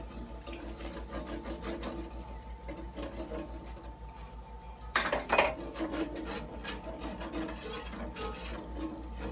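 A metal spoon stirs heavy cream into a white wine and Parmesan sauce for chicken breast, giving a steady scraping, sloshing rub against the pan with a brief louder clatter partway through, close and continuous over a low hum.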